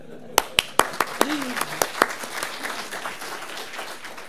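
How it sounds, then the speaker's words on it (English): A small conference audience at a developer talk claps briefly, starting with a few sharp, separate claps that quickly thin out into scattered, softer ones under some faint talking. "Give this man a clap."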